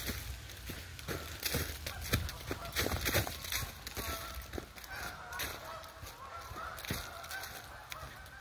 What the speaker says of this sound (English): Geese are having a meeting.